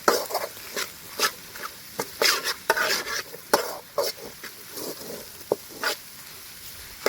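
A spoon scrapes and stirs vegetables with capsicum for Singapore rice in a pan, loud irregular scraping strokes over a light sizzle, with no talking.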